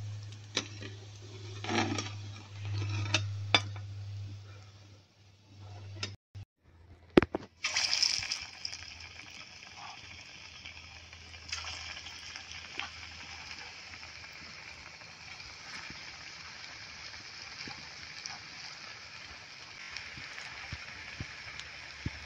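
Kachalu (taro) kofte are lifted from hot frying oil, raising a steady bubbling sizzle that swells at about the eighth second and then continues evenly, after a quieter stretch of low hum and scattered clinks.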